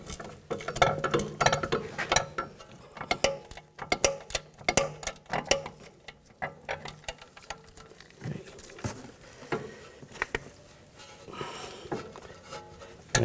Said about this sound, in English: Now we're going to use an 18mm ratchet wrench and a 5mm hex key to keep the stud from spinning.